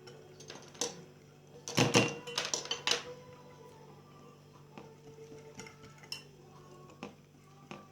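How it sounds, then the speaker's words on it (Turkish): Gluten-free pancake batter being whisked in a bowl, heard as irregular clinks and scrapes of utensil against the bowl, with a denser flurry of clattering in the middle and scattered sharp taps afterward, fairly quiet with no talking. "Bu şekilde güzelce çırpıyoruz."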